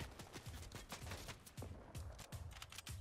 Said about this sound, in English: Other people shooting behind us, Jared.